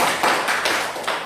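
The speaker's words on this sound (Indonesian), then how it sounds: "Tepuk tangan dulu buat" A classroom of students claps hands for a brief moment, a few close, uneven bursts of clapping.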